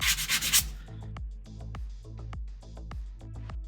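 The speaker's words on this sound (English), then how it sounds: "I got my 400 grit sanding sponge. We're just going to smooth it down." A 400 grit sanding sponge rubs back and forth over rapid fill putty in quick rhythmic strokes, up close and fairly quiet, with no speech.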